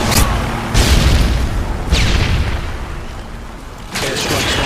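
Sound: airstrike explosions in video game Call of Duty Modern Warfare 2

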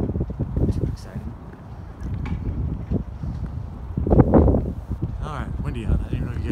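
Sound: wind blowing outdoors into microphone

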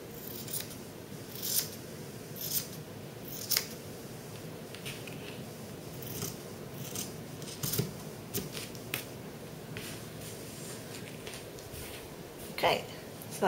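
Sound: scissors cutting fabric pattern pieces

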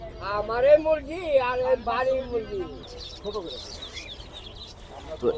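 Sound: birds at a poultry and bird market

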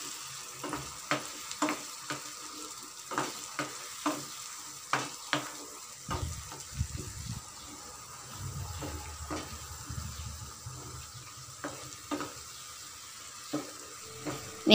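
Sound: onion tomato paste sautéing and stirred in oil

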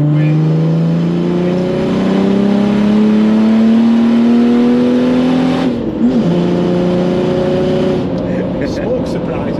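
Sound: 500BHP OM606 diesel Nissan Patrol engine revving

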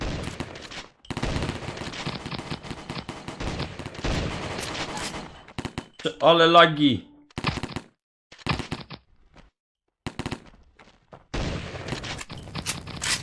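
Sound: gunfire from the video game Pixel Gun 3D

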